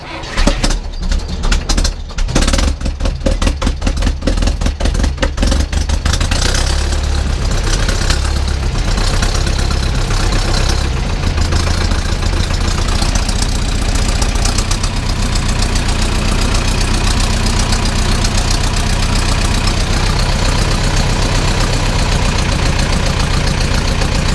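An old Zetor 7711 tractor's diesel engine cold-starts, cranking and catching with uneven knocking bursts, then settles into a loud, steady, rumbling idle that runs on.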